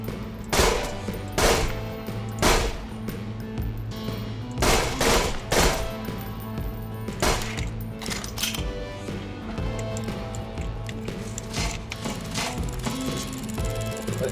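Rapid bursts of repeater machine pistol fire from Borderlands 2, loud and close, with dense sharp shots clustered in fast volleys over a busy game soundtrack and effects.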